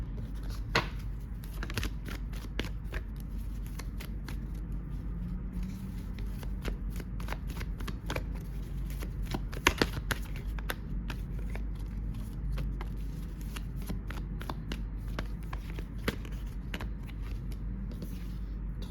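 Tarot cards shuffled by hand, a steady run of crisp papery riffles and flicks over a low background hum, close and moderately loud, no talking.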